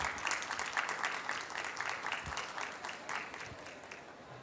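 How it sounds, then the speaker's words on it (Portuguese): A round of applause greets a speaker invited onto the stage at an infrastructure sustainability panel: a steady, moderately distant clapping from the audience, with rhythmic pulses running through it and soft background murmur. "Uma salva de palmas, por gentileza"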